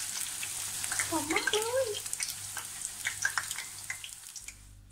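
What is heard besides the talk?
batter-coated flowers deep frying in oil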